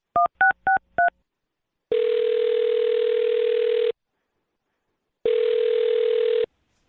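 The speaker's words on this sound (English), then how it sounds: "I'll dial her phone number right now and see if we can get her on the phone" Telephone dialing a number: four quick touch-tone beeps, then two long steady ringback tones separated by a pause, clear and isolated with no talking.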